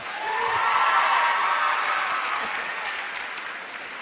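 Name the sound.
audience applause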